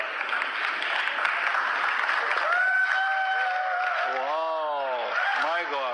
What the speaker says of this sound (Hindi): हम आपका जोरदार तालियों से स्वागत करना चाहते हैं